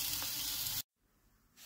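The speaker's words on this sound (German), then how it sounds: "schauen, dass wir auch die Seiten anbraten, oben und unten auch." Beef fillet sears in a hot pan for a Beef Wellington, a loud, steady broadband sizzle that cuts off abruptly midway, leaving a quieter hiss that swells again at the end.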